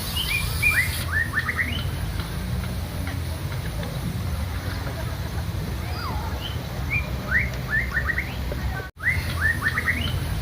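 An oriental magpie-robin sings bright, rising whistles and chirps in repeated phrases, over a steady low background hum and faint household noise.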